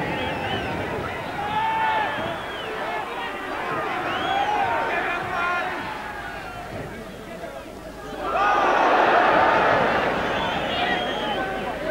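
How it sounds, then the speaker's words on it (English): Rugby league crowd at a 1984 New Zealand versus Great Britain test, a broad distant roar under steady commentary that swells louder toward the end as the Kiwis attack. "Crowd right behind this Kiwi side when they're attacking."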